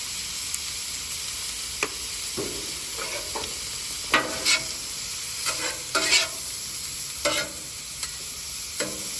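Thinly sliced cheesesteak beef seasoned with pepper and roasted garlic and herb sizzles steadily in a hot pan, a constant frying hiss broken by occasional louder crackles and pops, with no talking.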